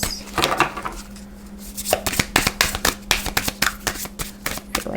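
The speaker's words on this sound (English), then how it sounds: "I feel like I need to shuffle this a little more." Tarot cards shuffled in a run of quick, crisp riffling flicks and soft slaps, close and fairly loud, alone with no talk.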